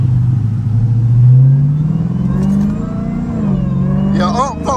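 Dodge Hellcat engine revving and pulling away, a loud low rumble that climbs in pitch, with someone talking over it and a brief voice near the end.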